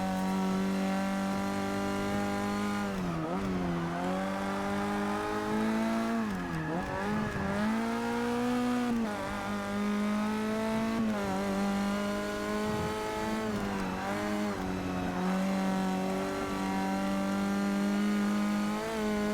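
A race car roars through a fast lap in Forza Motorsport 6, the engine loud and continuous as it revs up and drops between gear shifts and corners, with no talk over it.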